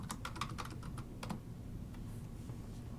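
Rapid keystrokes on a computer keyboard as a pip command is typed, a quick burst of clicks in the first second and a half, then sparser taps over a low steady background hum.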